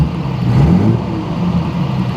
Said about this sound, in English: So all the usual drama of starting up a 50s car, the lovely button start